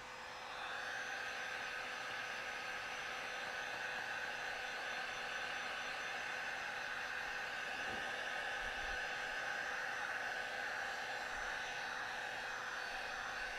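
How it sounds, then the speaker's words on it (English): A heat gun on high heat blows over paint protection film, giving a steady, even, whooshing roar that runs unbroken throughout at a moderate level. "Again, we have the heat gun a pretty high heat."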